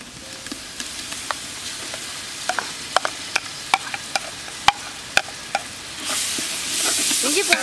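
Ginger garlic paste sautés and is stirred in a pan for mutton biryani, with crisp, regular spoon clacks over a steady sizzle that swells louder near the end.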